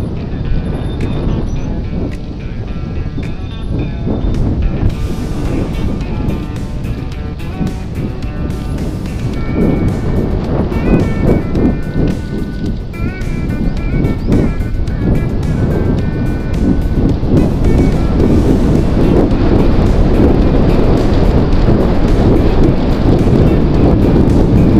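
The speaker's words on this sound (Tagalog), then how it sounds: "Sobrang lakas ng hangin dito sa kabundukan at naugong pa ang hangin" Strong mountain wind roars steadily into the microphone, a dense buffeting rush that keeps building in loudness throughout, high in the mountains of Calanasan, Apayao.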